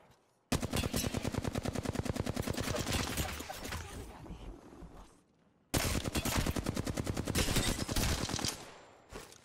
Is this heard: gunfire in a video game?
yes